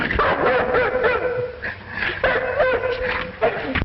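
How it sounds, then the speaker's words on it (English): A dog whimpers and whines in a run of short, high, wavering cries, close and fairly loud, with other sounds faintly beneath. "Are you sure this is the dog we want?"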